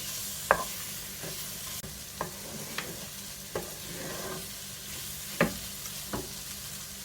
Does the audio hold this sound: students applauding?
no